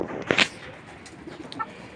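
A native hen gives a couple of short, soft clucks close by over a quiet background, then falls mostly silent apart from a faint later call.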